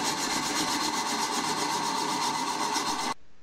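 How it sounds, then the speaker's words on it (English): A wood lathe spins while a coring cutter cuts into a bowl blank, a loud, steady grinding hiss with a fast pulsing rhythm that stops abruptly near the end. "swing the cutter in until it's bottomed out and then start the lathe back up"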